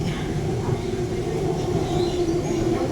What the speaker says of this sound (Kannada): ಮೆಟ್ರೋ ತೊಗೊಂಡ್ವಿ.